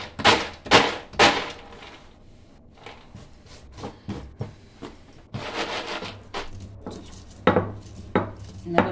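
Roasted, skinned peanuts are pounded by hand for kozhukattai, giving sharp, close thuds in irregular clusters with quieter gaps between the blows.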